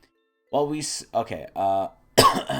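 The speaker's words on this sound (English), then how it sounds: "Excuse me, I still got COVID cough." Several harsh coughs from a person with a lingering COVID cough come in quick bursts close to the microphone, separated by short silences, ending with a rougher, throaty cough.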